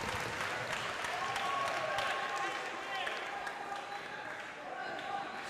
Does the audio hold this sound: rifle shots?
no